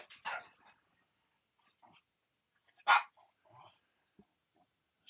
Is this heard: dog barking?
yes